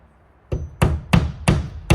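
Hammer nailing siding on a tiny house build: five sharp, loud metallic strikes at a steady rhythm, close by, with no voices.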